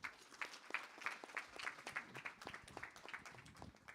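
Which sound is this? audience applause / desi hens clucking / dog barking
audience applause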